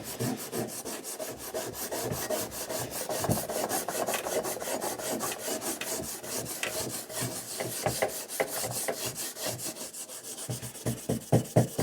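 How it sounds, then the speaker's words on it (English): An axe head is scrubbed with a scrubby pad in steady, rapid back-and-forth rubbing strokes, close and continuous, with the strokes growing sharper and more spaced toward the end. "clean it up a little bit first with a scrubby pad"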